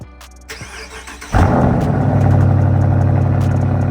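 A Dodge Charger R/T is remote-started on a cold snowy day: after a few faint clicks, the engine cranks and catches with a loud rush, then settles into a steady, rumbling idle, close by.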